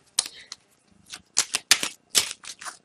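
Angel oracle cards shuffled by hand, a series of quick, crisp riffling and flapping bursts with short pauses between them, close by and moderately loud with no talk.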